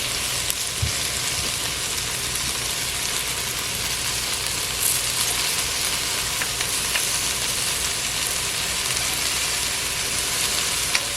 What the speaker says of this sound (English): You see the lime in there while it's frying.